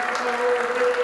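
Audience applause after a 9-ball pool championship final, a steady wash of clapping from a crowd, sustained and fairly close throughout the short stretch with no talk over it.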